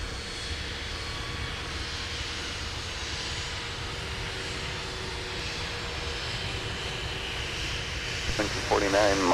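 A jet airliner at Minneapolis–St. Paul airport in freezing winter weather roars through its takeoff run, a broad, steady distant engine rumble filling the background while a voice talks over it.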